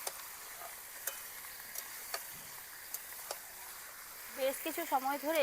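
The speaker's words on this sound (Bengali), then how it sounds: "এইবার এটাকে বেশ কিছু সময় ধরে শুধুমাত্র পেঁয়াজটা দিয়েই কষিয়ে নেব চিকেনটাকে" Chicken and onion sautéing in a pan, with sharp spoon clicks against the pan scattered over a low, steady sizzle; a voice speaks near the end.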